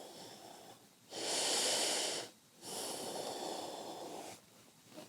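Slow, audible breaths during a yoga pose: two long airy inhales or exhales, each lasting over a second, separated by short pauses, close and alone with no talking.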